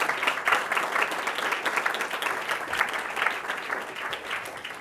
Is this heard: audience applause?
yes